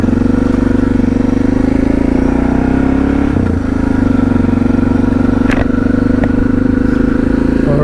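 A Suzuki DR650 motorcycle idles with a loud, steady thumping single-cylinder drone, close up, with a few brief clanks over the engine as the rider prepares to set off on a forest trail ride.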